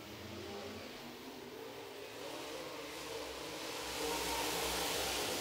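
Midwest Modified race cars roar around a dirt oval track, a broad engine wash heard from a distance that swells louder as the pack comes nearer.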